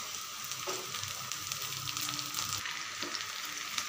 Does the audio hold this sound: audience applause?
no